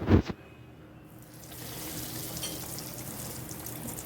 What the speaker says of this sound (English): So now let's fry it.